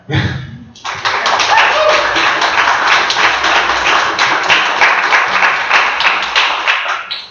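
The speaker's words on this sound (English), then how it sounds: "What do you guys think? Show of applause." A crowd bursts into sustained applause, dense clapping that holds steady for several seconds before tapering off.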